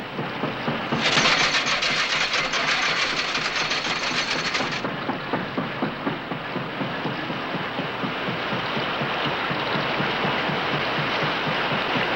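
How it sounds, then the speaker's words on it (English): A donkey engine winching a boat across a lake runs continuously, a steady chugging with a rapid mechanical pulse, joined early by a brief higher whine, loud and close. "They winch themselves across with their donkey engines."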